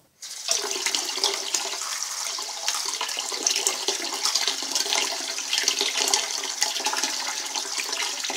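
Running water rinses tomato seeds clean of pulp, a steady close rush and splash that starts abruptly and continues without pause.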